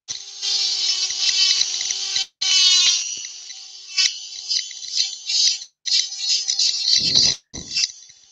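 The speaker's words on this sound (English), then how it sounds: "So to make it fit, we just use a little Dremel. And I'll just carve some more out of that." A small Dremel rotary tool whines in bursts as it carves out wood for a woodturning fit, its high motor tone starting and stopping repeatedly with brief pauses between passes.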